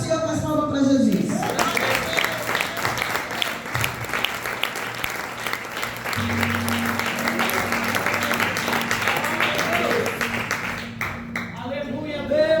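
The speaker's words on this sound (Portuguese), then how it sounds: "Receba o servo do Senhor com as palmas para Jesus." A church congregation applauds during a healing and deliverance service, with dense, sustained clapping that fills the room for about ten seconds, and voices are heard at the start and end.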